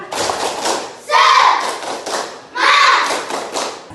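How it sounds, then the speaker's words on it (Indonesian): A school class claps in a quick rhythmic pattern, sharp bursts of hands and thumps alongside loud children's voices chanting together in two waves. "Tepuk semangat."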